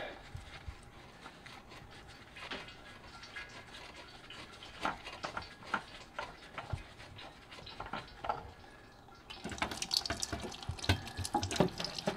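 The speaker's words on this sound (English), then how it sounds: "See where the oil's dripping out." Engine oil dripping from a 2022 Nissan Frontier into an oil pan, a faint uneven patter of drips with small clicks, growing busier toward the end.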